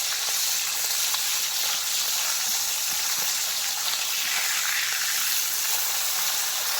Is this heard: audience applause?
no